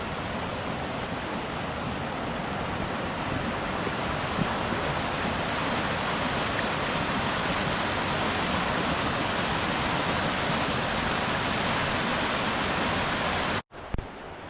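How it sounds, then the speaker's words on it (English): Fast water runs off Grindsbrook Clough on Kinder Scout in a loud, continuous broadband rush, steady and close throughout, with a sudden break at the very end and no talking. "This is all the water that's running off Grindsbrook Clough."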